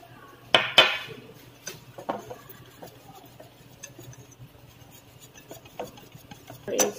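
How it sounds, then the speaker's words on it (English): Spoon scraping and clinking against a bowl while mixing kwek-kwek batter in a home kitchen, a few sharp knocks then soft irregular stirring, close and fairly quiet. "Then you mix again."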